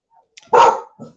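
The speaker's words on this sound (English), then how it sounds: "next door's dogs are yapping" A neighbouring dog next door gives one sharp, loud bark followed by a shorter softer yap, heard close and alone in an otherwise quiet room.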